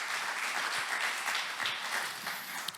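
A church congregation applauds at a French worship celebration, with continuous mid-distance clapping from many hands that holds steady throughout.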